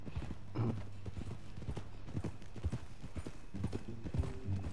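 A horse's hooves clip-clop steadily at a walking pace in Red Dead Redemption 2, a run of soft, close, rhythmic thuds.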